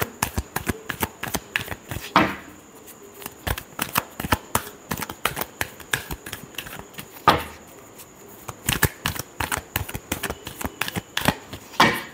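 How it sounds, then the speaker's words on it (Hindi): Tarot cards are shuffled in a quick run of crisp riffling flicks and slaps, close and fairly loud, with a few short pauses and no talking. "Last shuffle."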